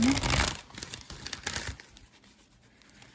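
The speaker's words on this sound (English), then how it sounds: "Let me get one more shuffle in." Crisp papery riffling and crinkling of tarot cards being shuffled up close, loudest at first and then tapering into quieter scattered shuffles.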